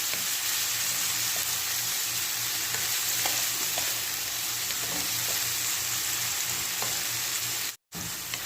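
Tomatoes, garlic and onion sautéing in a pan make a steady, close sizzle and crackle with occasional stirring clicks, cut by a brief dropout near the end.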